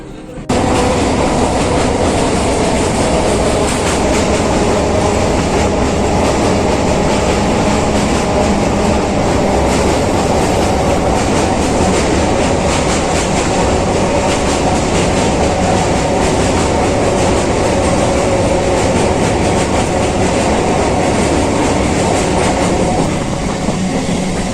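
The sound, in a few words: Naihati–Bandel local train running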